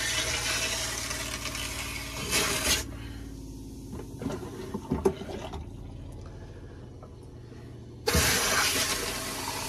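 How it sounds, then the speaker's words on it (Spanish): Leftover water gushes from an opened trailer water line during winterizing, a loud rushing spray that stops, leaving quiet dripping and clanks, then bursts out again. "Va a salir agua, que es la que le queda en la línea."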